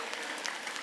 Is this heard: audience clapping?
yes